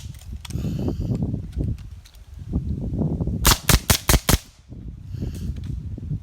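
Suppressed gunfire from a Zenith MP-5 clone: a burst of about five sharp, close cracks in quick succession, with rustling and handling noise before and after.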